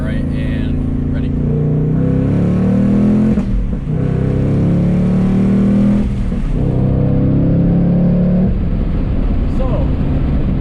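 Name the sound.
2024 Ford Mustang Dark Horse engine accelerating in track mode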